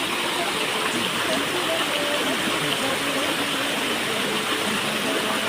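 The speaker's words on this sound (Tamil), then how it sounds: "தண்ணி எப்படி போகுதுன்னு பாருங்களா" A mountain stream rushing on the Sathuragiri pilgrimage trail, heard as a loud, continuous broadband wash of flowing water with someone speaking faintly beneath it.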